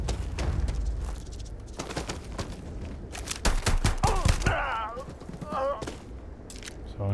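Pistol gunfire in the space game Starfield: a burst of sharp, loud shots spread through a few seconds, mixed with other combat noise while someone talks over it.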